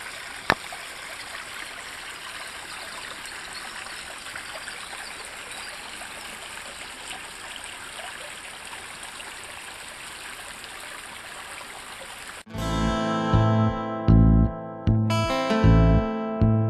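Onion River stream flowing steadily beside a campsite, a continuous close wash of running water for about twelve seconds before loud, rhythmic pounding sounds abruptly take over.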